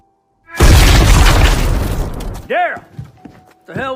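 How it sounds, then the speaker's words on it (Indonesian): A sudden loud bomb explosion in a film bursts out and rumbles for about two seconds, then a voice speaks over the fading debris. "bom itu seketika meledak dan menghancurkan kepala Anthony"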